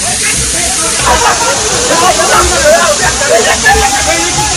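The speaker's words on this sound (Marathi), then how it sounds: "बघा छोटा मिनी धबधबा आहे बघा" A small roadside waterfall in the monsoon gives a steady, close rushing and splashing wash that fills the whole stretch, with people talking over it.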